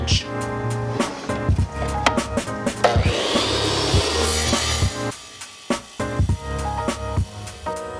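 A Dewalt D36000 wet tile saw cutting half-inch slate makes a grinding whine through the stone that rises and drops as the blade works, broken up by knocks and pauses near and loud.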